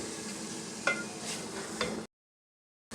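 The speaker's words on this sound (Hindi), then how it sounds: "दाल को अच्छे से भून लेंगे" Lentils (dal) sizzle while being stirred with spinach in a pan for palak dal, a steady close frying hiss with a couple of sharper scrape accents, then abruptly cut to silence near the end.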